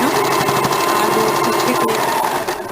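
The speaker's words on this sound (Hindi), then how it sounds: "इस तरह से ब्लाउज की साइड सिलाई पूरी करेंगे।" A sewing machine stitches the side seam of a blouse, a loud, close, continuous whirring hum with a fast mechanical pulse that eases off at the end.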